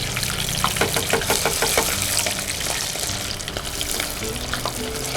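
Shrimp wrapped in bihon noodles frying in hot oil, a continuous loud crackling sizzle with brief clinks and scraping of a ladle throughout.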